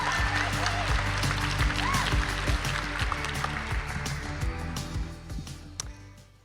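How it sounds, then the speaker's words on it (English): Applause for a poet at a poetry slam competition, a crowd clapping steadily and gradually tapering off over several seconds, with some voices mixed in underneath. "Applaud the poet, Lily Love. Keep that applause going."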